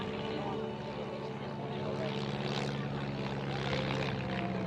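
A semi-aerobatic light aeroplane flies at an air display at Tatenhill, its propeller engine droning steadily and moderately loud throughout.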